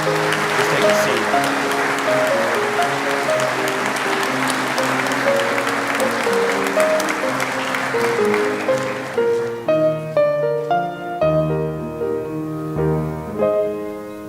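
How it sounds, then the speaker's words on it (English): Audience applause at a technical college graduation ceremony, sustained clapping from a large crowd that fades as music with sustained tones continues underneath and then carries on alone. "Let's again give all of our veterans a round of applause."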